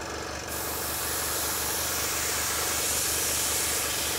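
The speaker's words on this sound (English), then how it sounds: "air spraying out and or thinner spraying out" A steady, close hiss of an airbrush spraying paint that starts abruptly and continues evenly, fine and breathy.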